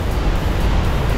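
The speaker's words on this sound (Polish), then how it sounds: "powodując taki wodospadzik" Small waterfall spilling down from a pond, heard as a steady broadband rush of falling water, loud and close, with no voices.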